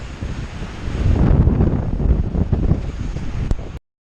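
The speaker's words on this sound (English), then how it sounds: "Breezy today." Strong wind buffeting the microphone during a mountain bike ride on a trail on a 2018 Pivot Switchblade 29er, a loud, continuous rumbling roar that swells and dips before cutting off abruptly.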